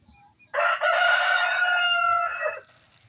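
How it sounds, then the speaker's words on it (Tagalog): A rooster crows once, loud and close, a long drawn-out call beginning after a short quiet moment and fading at the end, in a backyard garden where ginger is being planted. "Sabay pa tumilaki yung manok namin."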